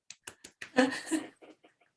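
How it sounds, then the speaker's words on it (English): A woman claps for herself, a handful of sharp separate claps mixed with brief laughing vocal sounds, close and fairly quiet. "I'll just clap for myself."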